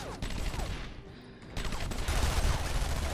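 Dense rapid gunfire rattles continuously through a video game battle, a chaotic automatic fusillade with a brief dip before it surges louder again.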